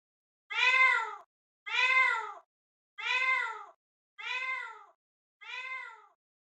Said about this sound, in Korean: 그 입에서 고양이 울음소리와 닮은 묘한 소리가 흘러나오고 있었다.